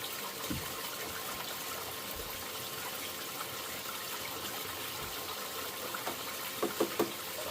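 Water rushes steadily over a Gold Cube sluice washing milled ore material, a constant close gushing hiss with a few brief knocks near the end.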